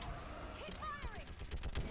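Sci-fi gunfire from Mass Effect 3 rattles in quick bursts during a battle, with shouted commands and combat voices layered over the shots.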